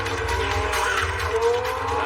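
A Lamborghini driven hard on an open road, engine roaring loud and close with tires squealing and skidding in a continuous burst.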